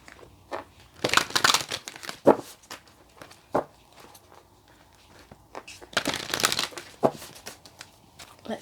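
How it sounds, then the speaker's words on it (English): Angels and Ancestors oracle cards shuffled during a tarot-style reading, with irregular bursts of riffling and soft slapping card sounds, close up, separated by quieter gaps. "We're going to get you some of the oracle cards from the Angels and Ancestors"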